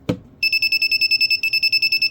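A brief thump, then a homemade MQ gas detector sensing alcohol starts beeping a loud, high electronic alarm in a rapid, steady pulse, close by and continuing without pause.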